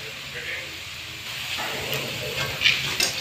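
Chuda (flattened rice) fries in a pan with a steady hissing sizzle that rises slightly toward the end, heard under someone talking.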